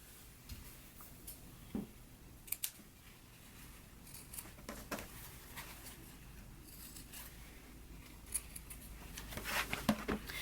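Scissors trimming the fabric facing of a sewn jacket pocket, quiet close-up with sparse crisp snips and clicks spaced irregularly over faint background hiss.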